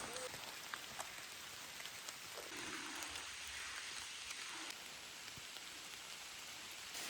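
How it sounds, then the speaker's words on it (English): Heavy rain pattering on a surface during a drive through northern Ontario, a constant wash of noise with occasional louder drops, fairly close and unbroken throughout. "It's pouring rain now."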